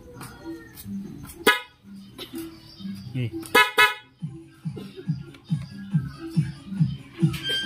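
A Yamaha NMAX motorcycle horn honks in several short, sharp blasts near the microphone, with engine noise and someone speaking briefly.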